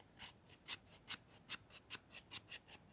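A Kizer Momo Fix 3 knife scraping tiny shavings from spruce wood outdoors, a faint, close series of about a dozen short, crisp rasping strokes in an even rhythm.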